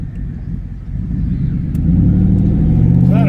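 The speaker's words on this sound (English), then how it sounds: "where all the traffic flows" Car traffic passing through the small town of Lovettsville, Virginia: a close engine rumble swells as a vehicle accelerates, growing louder and fuller through the second half.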